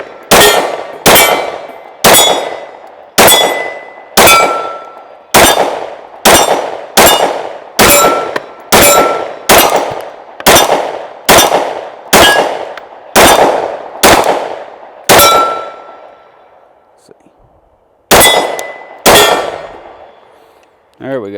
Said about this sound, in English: I love the sound of that steel